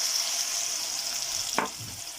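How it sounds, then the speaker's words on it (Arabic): Onion and garlic sautéing in a pan for a Moroccan zaalouk eggplant salad, a steady close hiss of frying with a brief stir or scrape near the end, no voices. "تشحر هاد البصيله مع هاد الثومه"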